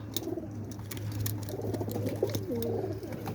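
Home-bred domestic pigeons coo in a low, steady, throbbing drone, near and moderate in volume, with faint chirps and light scuffling layered over it.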